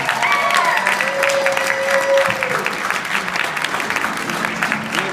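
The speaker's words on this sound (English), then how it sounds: "give them another big round of applause." Wedding guests at a ceremony break into sustained applause, steady clapping filling the room from start to finish with a few faint voices and cheers mixed in.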